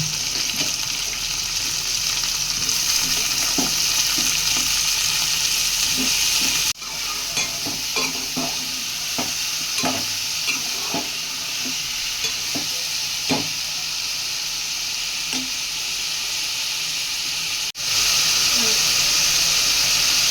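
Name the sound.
eggplant pieces frying and being stirred in pan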